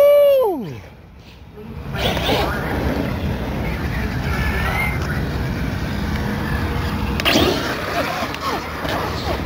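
An Arrma Kraton EXB RC car bashing on a street near a construction site whines through a rising motor burst as it pulls a wheelie, then a steady whirring, rushing drive noise with wind buffeting; a voice cheers at the start.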